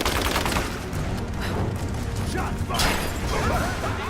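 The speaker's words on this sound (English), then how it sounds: "Shots fired." Rapid, dense gunfire from Rise of the Tomb Raider keeps up a loud, continuous rattle with sharp bursts throughout, and a voice can be heard talking underneath it.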